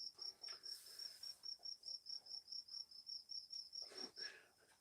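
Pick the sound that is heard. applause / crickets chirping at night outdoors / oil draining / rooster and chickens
crickets chirping at night outdoors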